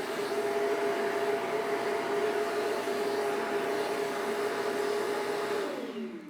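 Airthereal T1 touchless vacuum dustpan running in manual mode and sucking debris off a brush, a loud, steady whirring motor drone with a constant tone that winds down near the end.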